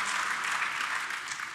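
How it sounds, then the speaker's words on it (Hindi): Steady applause from an audience at a seminar session fills the short stretch, a dense, even wash of clapping with no talk over it. "लेकिन आखिर में एक छोटे से फ़िक्रे पे जिस वालहाना अंदाज में आपने तालियां बजाईं"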